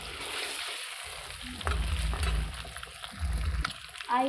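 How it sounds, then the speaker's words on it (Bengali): Eggs frying in oil in a pan give a steady crackling sizzle, with low clattering bursts from the pan and a utensil scraping at intervals. "আমার ডিমটা ভাজা হয়ে গেছে, দেখো কত সুন্দর কালার হয়েছে।"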